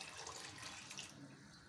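Water poured into an open pot over soaked chickpeas for boiling, a steady splashing stream heard close and alone for under two seconds.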